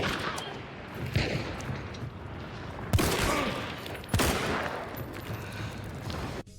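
Gunfire in the video game Hunt: Showdown, several loud sharp shots cracking at irregular intervals, each followed by a ringing echoing tail over a low background rumble.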